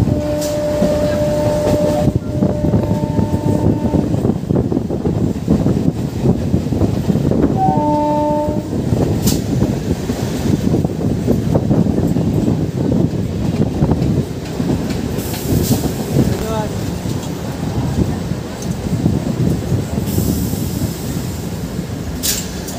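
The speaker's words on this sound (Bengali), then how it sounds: "আমাদের ট্রেন এই মুহূর্তে এসে পৌঁছালো মাছদিয়া স্টেশনে" A Ranaghat-Gede local train pulls into Majhdia station with a rumbling, clattering roll, a couple of horn blasts early on and a brief squeal, steady and close for the whole stretch.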